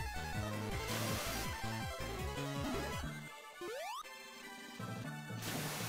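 A jingle from the Game Boy Advance game Sonic Advance 3 plays, bright and boopy chiptune notes bouncing rapidly, broken by a rising sweep and crashing effects, fairly loud with no talk.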